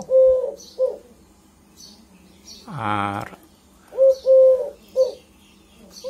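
Pigeons coo in short rounded bursts, a cluster at the start and another near the end, with a brief voice speaking in between.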